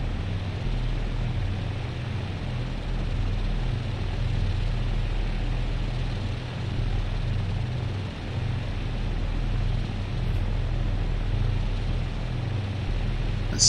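Twin propeller engines of a P-38J in the Prepar3D flight simulator, heard as a steady low droning rumble with broadband hiss, constant and even throughout, with no talking.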